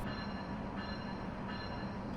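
A video game train rolls slowly into a platform with a steady, low rumble and faint rail noise, no horn.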